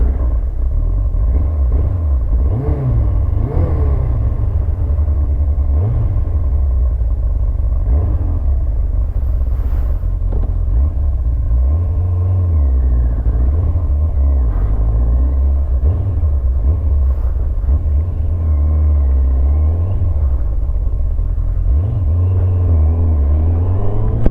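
Kawasaki ZZR 1100 motorcycle engine running after a hydrostatic lock repair, a steady close rumble with uneven, stuttering surges throughout and no talking.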